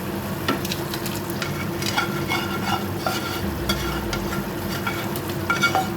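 Paneer sautéed in hot oil with green chillies and ginger in a pan makes a steady close sizzle, with repeated scraping stirs through it and no voices.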